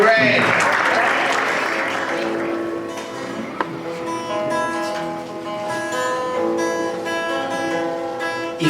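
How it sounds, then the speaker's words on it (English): Applause rises from the audience at an inauguration ceremony for the YALI RLC West Africa alumni chapter in Togo, welcoming a performer; a dense burst of clapping at the start thins as sustained musical tones take over. "So, ladies and gentlemen, give a round of applause."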